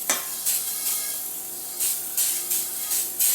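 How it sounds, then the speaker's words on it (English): Butter-flavored Pan Coat cooking spray hisses into a bowl in a home kitchen, several short sharp bursts spaced across the moment, close and fairly loud, with no talking. "I'm going to go ahead and spray this bowl here with some butter flavored pan coat"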